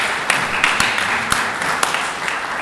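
An audience at an evening conference on overseas cultures claps in steady, dense applause, close and sustained throughout, with a few louder individual claps standing out.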